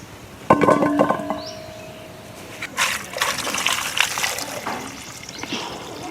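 Peeled hog plums are rinsed in water, with a sharp initial splash and clatter followed by irregular sloshing and trickling close by.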